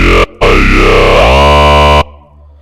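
A vowel bass patch in NI Razor sweeps through a talking, vowel-like wah, its formants shifting before it settles into a steady buzzy tone and cuts off.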